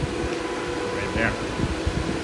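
Steady, dense whoosh of cooling-fan airflow from an IceRiver steel cryptocurrency mining machine, a constant close-up rush of air with no pauses, and a few faint knocks underneath.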